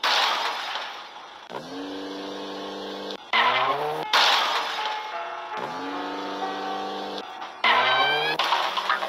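Car driving away in the horror video game Granny, a loud engine revving in repeated surges with tire squeals and rising whines, looping cycles of acceleration and occasional crash-like bursts.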